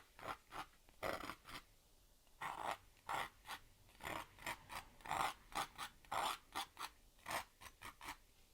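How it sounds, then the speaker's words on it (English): A palette knife scrapes paint onto a canvas in short, rhythmic rasping strokes, roughly a dozen close, quiet scrapes with brief pauses between them and no talking. "Palette knife, let's just scrape in a few little sticks and twigs."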